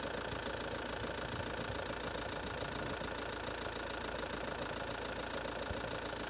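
A car engine idles steadily just after starting, a quiet, even, continuous hum with faint rhythmic knocking texture and no voices.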